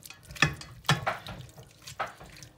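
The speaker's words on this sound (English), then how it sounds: "So give it a good stir." A spoon stirring a pot of Flemish carbonnade de boeuf with Italian mixed herbs: three or four close, wet scraping strokes with short pauses between them, heard alone.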